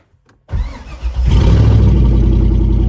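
A Chevrolet Corvette C6, noted as hard to start, cranks after a moment of silence, catches, and settles into a loud, close, steady idle.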